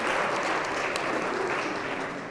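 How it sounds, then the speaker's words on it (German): Audience applause fills a candidate presentation for a mayoral election in Welzheim, a dense, steady clapping that stays loud throughout with no speech over it. "Ja, lauter Klatsche."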